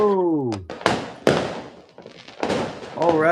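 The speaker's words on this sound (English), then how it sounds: "Fireworks. Everybody hear that?" New Year's fireworks in Bali burst in several sharp, loud bangs with crackling tails, while excited voices shout and talk over them between the blasts.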